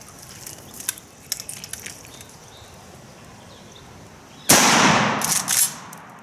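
A single loud shotgun blast firing buckshot, sharp onset followed by a sustained rumbling decay with a second burst, after a stretch of quiet outdoor background with faint clicks.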